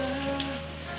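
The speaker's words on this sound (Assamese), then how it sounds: "পুৰা বৰষুণ দি আছে" Heavy rain falls near hills in Manipur, a short, even patter of drops with a faint steady tone running underneath.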